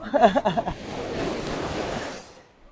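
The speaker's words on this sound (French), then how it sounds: "Oh là là, les vagues elles vont me choper." Ocean waves surge up the shore, a short rushing wash of breaking water that swells and fades out, heard close with some wind buffeting the microphone.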